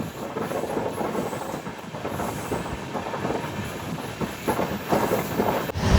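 LHB express coaches of the Tirupati Express roll steadily along the rails, a continuous loud rumble with wheel clatter and faint squeal, close and unbroken throughout.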